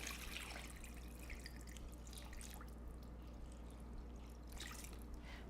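Filtered water pours into a large stock pot, a faint, steady trickling stream with scattered drips and splashes throughout, no voices.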